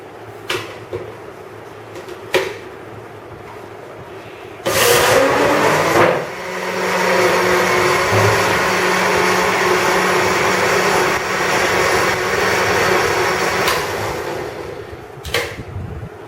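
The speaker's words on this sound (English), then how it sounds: "I'll mix this up first before adding the other part of the flour" Electric mixer whirring through kuih lapis pelangi batter in a bowl, a steady loud drone lasting about nine seconds with a pitch shift as it settles, framed by a few clunks and taps before and after.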